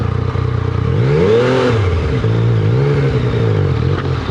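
Yamaha MT-09 Tracer motorcycle engine idling and revving at low speed through a U-turn, a steady close drone with a brief rising rev in the middle, loud and continuous with no talk.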